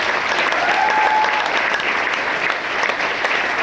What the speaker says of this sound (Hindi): इन तीनों के लिए एक बार जोरदार तालियां